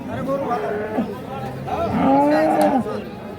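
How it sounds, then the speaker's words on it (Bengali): A Holstein Friesian cow at the Ambari cattle market lets out a long, loud moo up close, followed by another drawn-out call, with market chatter faintly behind. "একটা গাভী দেখছি"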